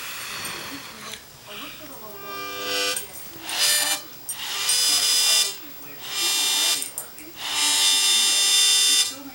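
A child blows a harmonica in a few short, buzzy, reedy bursts with pauses between them, while an adult talks nearby.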